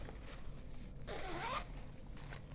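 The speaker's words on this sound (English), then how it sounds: "So I'm gonna zip that shut" A zipper is pulled shut on a sewn tote bag in one brief, quiet rasping stroke, close up with no talk.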